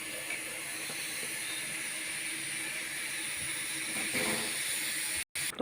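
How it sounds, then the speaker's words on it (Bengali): Luchi puff in hot oil in a karahi with a continuous hissing, bubbling sizzle at moderate level, steady throughout with a brief cut near the end; no voices. "গরম গরম ভাজবো, টপ টপ করে ভাজবো। কড়াতে তেলও আমার গরম হয়ে এসছে"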